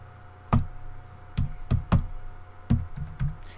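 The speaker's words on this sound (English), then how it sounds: "let me clear the screen and type this in again" A handful of separate, firm keystrokes sound on a computer keyboard as a PowerShell command is entered, each a sharp close tap with a low thump, spaced unevenly over a quiet background hum.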